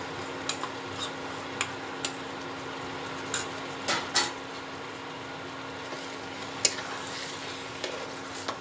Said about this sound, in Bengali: এবার এর মধ্যে আমি খোয়া ক্ষীরটা মিলিয়ে দেবো।